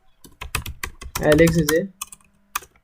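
Fingers type Python code on a computer keyboard, a run of sharp clicky keystrokes in uneven bursts, briefly interrupted by someone speaking.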